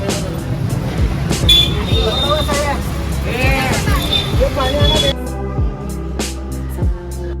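An auto-rickshaw ride in Solapur carries a group of young men, with loud engine rumble and road noise under continuous voices and chatter.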